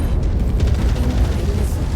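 Incoming missile impact in MechWarrior 5: Mercenaries, a deep rumbling explosion with heavy low-end booming that rolls on for a couple of seconds, loud and close.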